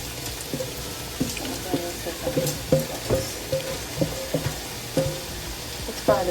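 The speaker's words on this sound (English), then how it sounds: "Let's fry the rest of it." Sausage sizzles and fries in a pan with repeated stirring and scraping clatters in an irregular rhythm, close and moderately loud, with a voice speaking over it.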